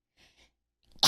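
A person sneezes once, loud and close, after a few soft breathy sounds, during a casual Bloodborne gaming session.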